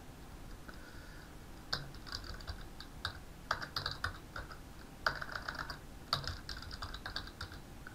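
Fingers typing a password on a computer keyboard, soft irregular key clicks in quick bursts with short pauses, close and quiet, no talking.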